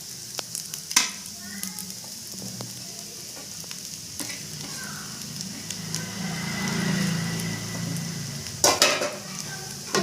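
Fish semiya vermicelli frying in a pan, a steady close sizzle under scraping and clinking stirring strokes, with a few sharper knocks near the end and no talk.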